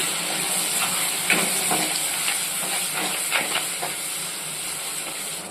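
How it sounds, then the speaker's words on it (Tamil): Tomatoes sauté in oil in a pan for an okra kara kuzhambu, a constant loud hiss of frying broken by several soft stirring clatters spaced through it. "அந்த தக்காளியை நல்லா எண்ணெய் பிரிஞ்சு வர அளவுக்கு வதக்கிக்கலாம்"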